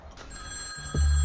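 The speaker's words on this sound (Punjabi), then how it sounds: "ਇਹ ਕਦਾ ਫੋਨ ਆ ਗਿਆ" A telephone rings indoors in a village home, a steady electronic ringing tone that holds throughout, ending with a low thump.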